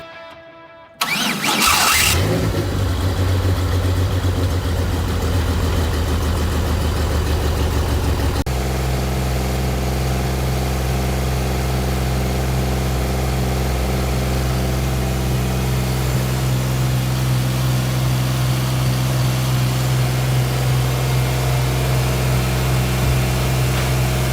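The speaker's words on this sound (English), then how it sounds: "Now let's check out the engine startup and running." A 1946 Willys CJ2A jeep's supercharged GM 3800 Series II V6 cranks briefly and roars to life, then settles into a loud, steady, rumbling idle that continues close up for the rest of the recording.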